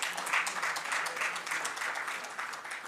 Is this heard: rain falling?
no